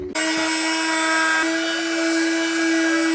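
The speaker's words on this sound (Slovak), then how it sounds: "Táto horná hrana sa mi celkom podarila s tou brúskou vyčistiť do železa, ešte to prejdem pár razy" An angle grinder sands an Audi A4 car door down to bare metal, giving a steady, loud high-pitched whine that starts abruptly and runs continuously, with slight dips as the disc meets the panel.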